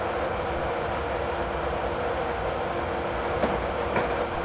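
A Class 91 electric train coasting with power idled near 125 mph through Knebworth station on the London to Peterborough line in Train Simulator 2015, a steady loud rumble of wheels and rail noise with faint clicks, no talk.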